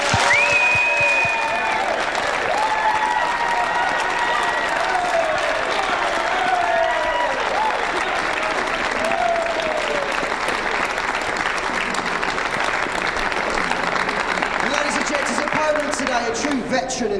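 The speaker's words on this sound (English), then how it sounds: "a big round of applause for Darren Dynamite Appleton!" Audience at a men's pool quarter-final match applauding and cheering as a player is introduced, long continuous loud clapping with whoops and voices mixed in.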